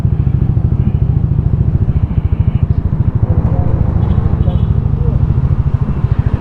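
Several motorcycles, including a Yamaha Aerox scooter, idle together at night before a group ride, a steady close-up engine putter throughout, with speech in the background.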